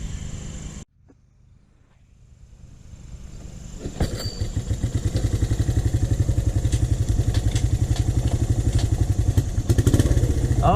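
Off-road motorcycle or ATV, a Honda TRX 125 or XR 500, starts up after a brief silence and then runs steadily nearby, its loud rumbling engine holding a fast, even putter throughout with no talk.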